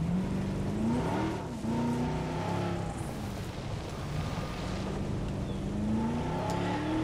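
A vehicle driving through a Jurassic World Evolution park, a continuous engine drone whose pitch climbs and dips as it accelerates and turns, loud and steady with no voices.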